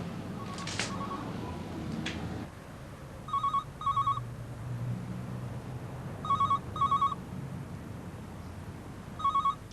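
A telephone rings in repeated quiet electronic double trills with pauses between, heard faintly from a distance over low background noise.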